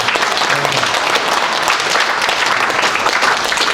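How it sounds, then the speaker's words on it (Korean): A large church audience at a Korean symposium gives loud, continuous applause, with a thick, fast-rattling wall of many hands clapping close by and holding at a steady level from start to finish. "하나님께 영광의 박수 드리시고"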